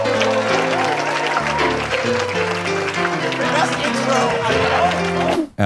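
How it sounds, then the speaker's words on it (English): A comedy club crowd at the Comedy Store claps as a stand-up comedian is introduced, moderately loud applause mixed with strong music and voices, then cut off abruptly near the end. "Fahim Anwar, everybody clap your hands."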